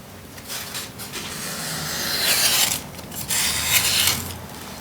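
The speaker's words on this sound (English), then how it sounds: "Blend it in a little bit with a little sandpaper" Sandpaper rubbing over carved foam, a soft dry rasping in uneven strokes that swell and fade, close and fairly quiet.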